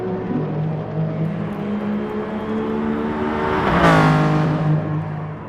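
A race car engine at Laguna Seca in Gran Turismo Sport drones steadily, then revs sharply with a quick rising whine near the end before settling back to a sustained hum.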